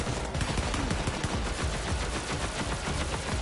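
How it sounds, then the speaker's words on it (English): Rapid, sustained gunfire in Borderlands 3 aimed at the player, a loud, dense rattle of overlapping shots filling the whole stretch without pause. "Somebody's trying to shoot at me."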